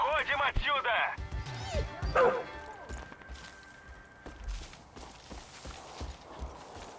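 Dogs bark in the Far Cry 5 video game, with a burst of several close, loud barks early on, then fainter yips and footsteps over gunfire-like thumps and game noise, while a player talks throughout.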